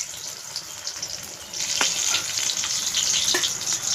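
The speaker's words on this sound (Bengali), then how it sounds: "আমি একটু ঢাকা দিয়ে ভাজবো" Eggplant slices frying in oil in a pan give a steady close sizzle that grows louder partway through, with occasional sharp crackles and pops.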